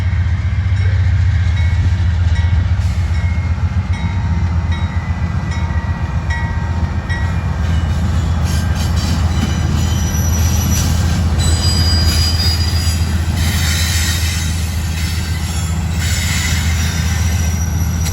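A train rolls past on rails in Decatur, Alabama, with a steady loud rumble throughout and high wheel squeal rising near the middle and end, with no talking.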